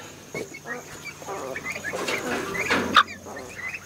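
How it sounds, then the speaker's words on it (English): Chickens and a rooster cluck in a farmyard during morning feeding, a fairly close stream of clucks with one sharper call near the end, with faint voices around. "Got the rooster right there."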